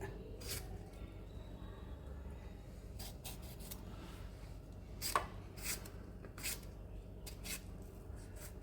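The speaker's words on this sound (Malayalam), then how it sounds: "എല്ലാം ഒന്നിച്ചങ്ങ് അരിയാം കുഴപ്പമില്ല" Knife chopping tomato, onion and green chilli together for sambar, heard as a few scattered crisp cuts on a board over a steady low kitchen background, with no talking.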